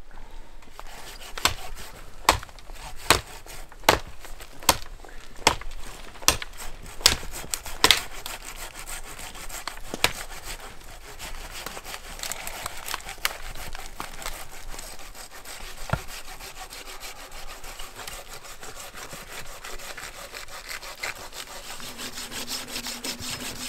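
A saw works through firewood in snowy winter woods, with rapid rhythmic rasping strokes early on, then steadier rubbing cuts, nearby and moderately loud against an open outdoor background.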